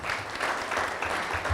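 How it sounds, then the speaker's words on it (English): A conference audience applauds a panel on global health research with a brief burst of dense, steady clapping from many hands. "Let's applaud these panelists."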